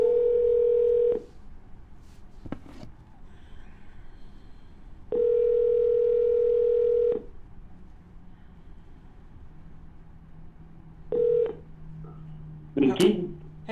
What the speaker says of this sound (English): And we're dialing.